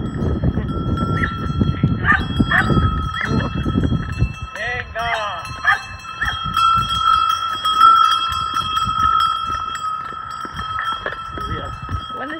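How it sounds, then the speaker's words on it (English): Cowbells clink from cows in rainy mountains along a pilgrimage trail, ringing sparsely at moderate distance over rain and wind noise, with someone speaking and other voices around. "Cows!"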